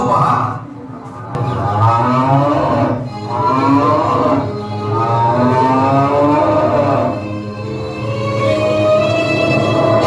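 A cow moos in several long, drawn-out, wavering calls that rise and fall, loud and close, part of a Ganeshotsav tableau.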